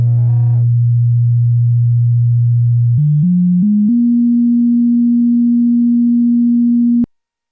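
A pure, steady sine wave tone from a synthesizer oscillator hums low, then steps up in pitch a few times before holding a higher note and stopping abruptly.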